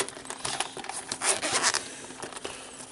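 A zipper being drawn along a black and blue knife carrying case with foam lining, a close, scratchy ripping run lasting a few seconds with small bursts and pauses, no talking.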